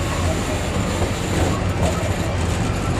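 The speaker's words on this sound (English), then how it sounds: "He's a replica of a steam train used by the Western and Atlantic Railroad during the Civil War." A replica of a Civil War-era Western and Atlantic Railroad steam train runs on a zoo railway, giving a loud, steady, close rumble and rattle of the cars on the track throughout.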